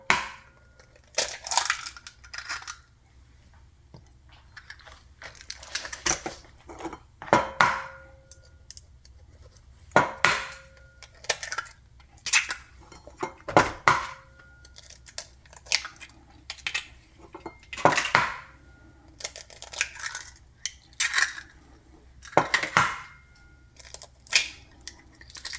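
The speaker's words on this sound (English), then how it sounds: "First, I will crack the eggs into a bowl." Eggs cracked one after another into a bowl, each a sharp crisp tap or crunch followed by a soft wet plop, spaced irregularly and close up against a quiet kitchen background with no talking.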